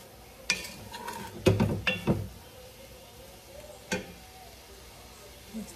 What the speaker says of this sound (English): So all this in the bowl. So you mix all the spices in.